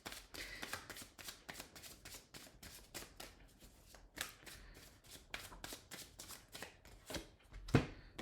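Tarot cards being shuffled by hand, a steady run of quick riffling and flicking bursts that carry on through the whole stretch, close and fairly soft, with no talking.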